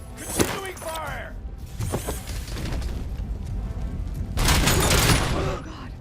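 Sustained gunfire from the video game RoboCop: Rogue City, a dense fusillade mixed with booms and mechanical clatter, swelling loudest near the end, with a voice talking over parts of it.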